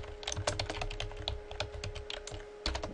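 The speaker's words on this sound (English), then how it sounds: "and I'm going to type" Rapid, close clicking of keys being typed on a computer keyboard, with an uneven rhythm of taps and a faint steady hum beneath, no voices.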